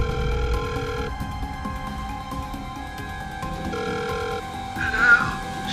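A telephone in a residence rings with a steady electronic tone in two long bursts separated by a pause, fairly loud over faint background noise.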